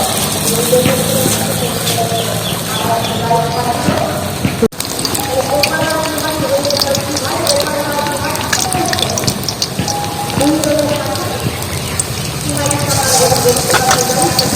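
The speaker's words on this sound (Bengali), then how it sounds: "আর নিয়ে বেসন এইভাবে লাগিয়ে নেবো গায়ে, দিয়ে এটা দিয়ে দেবো। তেলের মধ্যে দিয়ে দিচ্ছি।" Onion chops coated in gram-flour batter deep frying in oil, a dense, loud, rain-like crackle that holds steady throughout with one brief break, heard up close.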